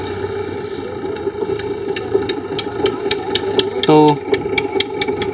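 A tractor engine idles on a river ferry boat on the Ganga, a steady loud mid-pitched drone with rushing water noise and a brief tonal burst near the end, while someone speaks over it.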